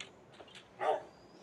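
A dog in a survival video game gives a single short bark, loud and close, after a couple of faint yips, against a quiet game background.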